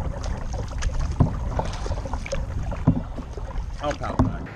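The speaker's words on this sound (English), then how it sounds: "I'll paddle back." A kayak is paddled through shallow water on a bass fishing outing. Rhythmic paddle strokes splash and swish at regular intervals over steady wind noise, close to the microphone.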